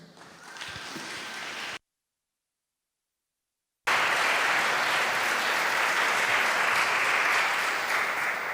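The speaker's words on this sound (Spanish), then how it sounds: "un fuerte aplauso para él" Applause at a game presentation at an indie market event, a brief burst of clapping, a sudden gap of silence, then a longer, louder, steady round of clapping from the audience.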